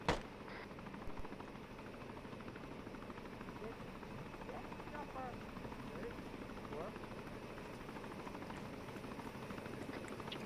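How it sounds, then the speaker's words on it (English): A military helicopter in the Arma 3 game drones steadily at a distance throughout, a constant rotor wash and engine hum under players talking over each other. "Helicopter northeast."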